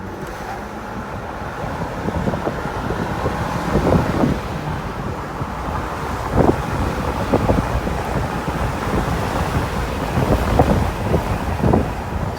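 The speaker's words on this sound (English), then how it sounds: "Sorry about the wind, took the top off today." Steady, loud wind buffeting roars across the microphone inside an open-top car with its roof removed, a continuous rushing noise with faint engine and road sounds underneath and no talking.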